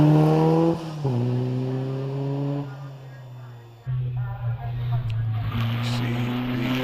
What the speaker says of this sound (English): These are a number of these Formula Ford cars without all the aerodynamic aids and the slick tyres, they're on road going tyres.